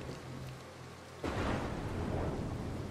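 Thunder rolls in during a lightning storm in the stealth game Mark of the Ninja, a sudden broad rumble breaking in after a quiet stretch and lingering over steady rain-like noise, with no talk.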